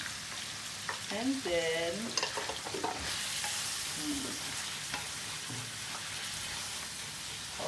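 Button and shiitake mushrooms sizzle and hiss steadily in a hot pan while being stirred, with scraping clatters and a brief spoken phrase at the start.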